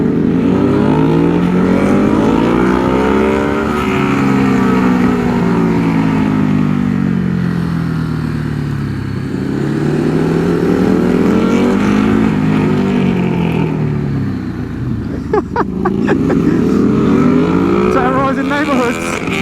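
A Ducati Hypermotard 950 SP motorcycle repeatedly revs up and drops back in loud sweeping surges, close and continuous, with a sharper crackling burst near the end.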